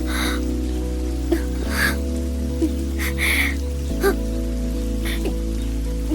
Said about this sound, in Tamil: நிஜமாவே மழை வந்துருச்சு.